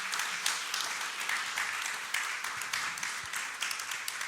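A conference audience applauds a keynote speaker, a dense, even patter of many hands clapping at moderate distance for a few seconds.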